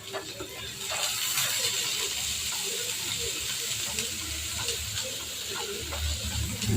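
Chopped onions and small shallots sautéing in a pan for mutton fry, a steady hiss and sizzle running continuously at moderate level with small crackles and pops scattered through.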